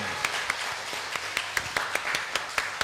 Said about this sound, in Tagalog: Sige po, yung malakas na palakpak, bigyan natin kay Lord.